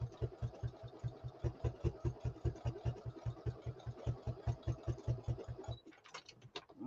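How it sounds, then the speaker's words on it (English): A sewing machine running a fancy decorative stitch across a fabric needle book, a steady rhythmic mechanical chugging at close range that stops near the end, followed by a few faint clicks. "it takes a while to sew across the line because I got it on a fancier stitch"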